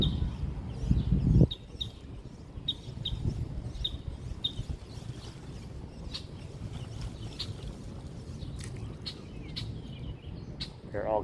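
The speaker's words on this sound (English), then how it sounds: "It doesn't sound like a happy chirp. It's a blackbird, red-winged blackbird." A red-winged blackbird gives repeated short, agitated chirps near a fishing spot by the water, steady scattered calls over a continuous outdoor wash with a louder rustling burst at the start.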